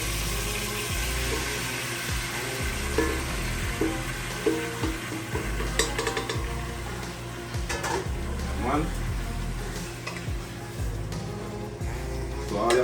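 Jamaican brown stew chicken dropped into a pot of hot cooking oil, a steady close sizzle with clattering stirring and pot sounds throughout, while someone talks over it.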